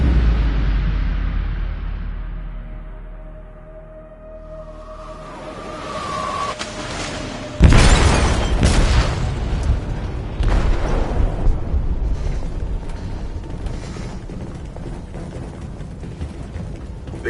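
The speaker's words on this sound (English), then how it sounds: "They detonated an explosive in the hold." An explosive detonates inside a ship's hold in the video game Detroit: Become Human, a sudden loud boom that follows a dull rumbling build-up and then gives way to long crackling, rumbling debris.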